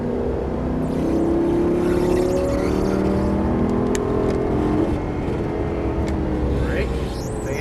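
Lamborghini Gallardo Superleggera LP570-4 accelerating on a race track, a loud steady engine drone with rising harmonic sweeps, heard from inside the car under a coaching voice.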